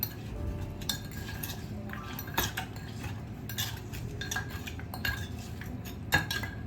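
Cutlery stirring and clinking against a dish while ingredients are mixed for a Thai papaya dish, with steady scraping and a few sharper taps over a low background hum.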